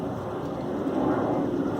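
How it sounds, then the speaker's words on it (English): A low, distant rumble of an airplane passing overhead, steady and broad, slowly swelling slightly in loudness with no voices. "sorry about the plane overhead"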